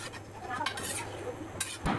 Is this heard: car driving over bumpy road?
no